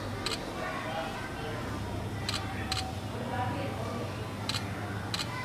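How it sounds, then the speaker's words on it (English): Vivo Y20 smartphone camera shutter clicks sound as sharp short snaps, about five spaced through the stretch, over a steady background hum with talking underneath. "There will be a clicking sound."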